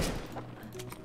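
Rapid gunfire in the game Counter-Strike (CS:GO), a dense burst of several shots over a continuous game background, short and fairly loud with no talk.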